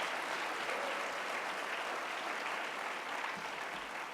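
Applause from the audience at an alternative high school graduation ceremony, a steady, fairly faint wash of clapping that lasts the whole stretch.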